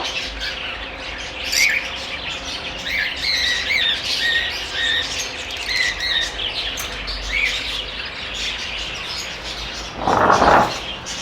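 A green opaline lovebird breeder pair squawks and chirps in repeated sharp bursts close by, ending in a louder harsh squawk near the end, with no talk over it.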